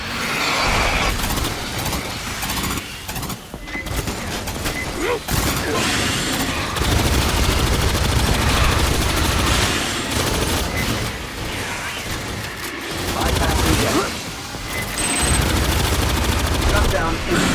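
An automated sentry turret in Aliens Fireteam Elite 2 fires long, loud, rapid bursts in heavy repeated volleys, with deep booms and brief pauses between strings of shots, and voices call out over the gunfire.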